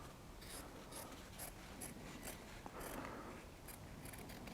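Scissors cut through felt in a steady run of close, crisp snips, each blade closure repeating about every half second over quiet room noise.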